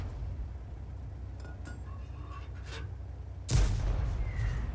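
A tank shell from an M41 HMC slamming in during a war video game, a single sharp heavy impact followed by a lingering rumble, after a stretch of low background noise and faint distant clinks.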